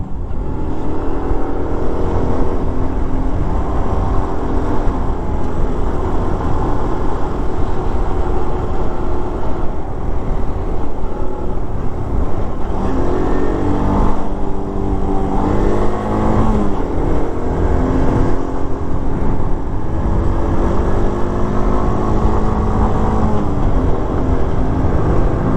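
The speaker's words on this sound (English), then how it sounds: "Wayne just come past on the CT200 there" A Honda CT200 motorcycle rides past on a dirt track, its engine note rising and falling through the pass over steady loud road and wind rumble, with no talking.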